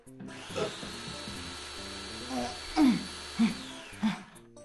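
A Hilti power drill whines steadily at a high pitch, joined by a few louder scraping and knocking bursts of tool noise.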